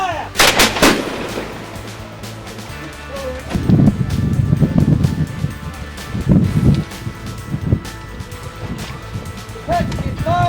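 Civil War reenactment musket volley in the open air, with sharp loud gunshot cracks early on and further rolling bursts, wind noise on the microphone and voices shouting in places.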